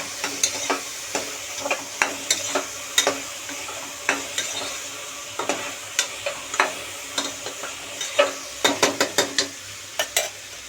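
A spoon scrapes and taps through vegetable biryani ingredients in a pan, with steady sizzling underneath and a quick cluster of sharp clinks near the end, close and unaccompanied by talk.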